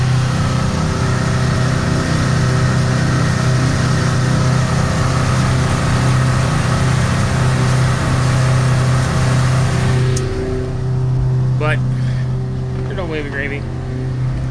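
A shanty boat's outboard engine runs near wide open throttle at about 4,200 RPM, a steady loud drone with strong low hum, easing slightly near the end as a voice speaks over it.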